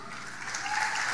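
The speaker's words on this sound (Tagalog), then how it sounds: "may mga palakpak pa yan" An audience claps at a preaching event, brief, steady applause rising slightly toward the end, moderately distant with a faint murmur of voices underneath.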